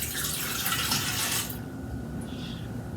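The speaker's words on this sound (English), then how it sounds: "You want to put your warm water in the bottom." Warm water pours into a mixing bowl for homemade Chicago deep dish pizza dough, a loud continuous splashing stream for about a second and a half that then cuts off, leaving quieter room noise.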